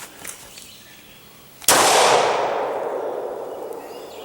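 A pistol with its barrel obstructed by a gum polymer fires once, a sharp loud crack followed by a long fading roar of ringing echo and rumble.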